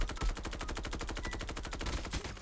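Rapid automatic gunfire in a mobile shooter video game, a loud, fast, evenly spaced burst of shots firing continuously for a couple of seconds.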